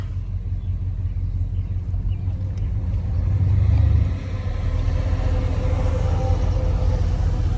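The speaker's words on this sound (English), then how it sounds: "Let these cars go by." Cars pass on a road outside on a cloudy day, with a steady low engine rumble that swells to a louder pass-by around the middle and then settles back into a continuous traffic drone.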